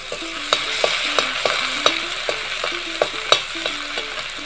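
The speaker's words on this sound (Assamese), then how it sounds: "তাৰপিছত আদা নহৰু পেষ্টটো দিলোঁ।" Ginger-garlic paste sizzles in a hot frying pan while a spatula stirs it. Sharp scraping taps recur about once a second over a constant frying hiss.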